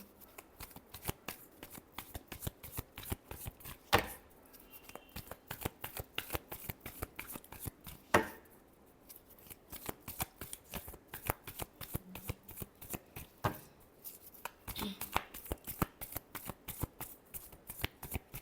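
Tarot cards being shuffled by hand give a close, continuous run of crisp riffling flutters with short pauses and a few louder slaps, quiet and with no voices.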